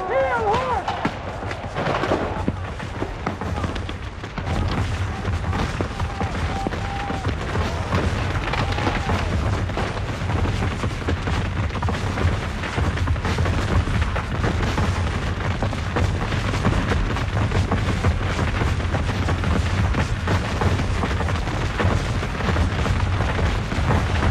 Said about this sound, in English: Yankees left and right swung their guns around and opened fire